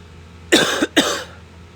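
Two quick, harsh throat-clearing coughs close together, loud and near, with quiet in between.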